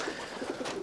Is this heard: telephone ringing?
no